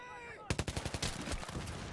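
Rapid automatic gunfire in Battlefield 3, a fast burst of about a dozen sharp cracks in tight rhythm that starts abruptly and then blurs into a dense rattle, close and loud.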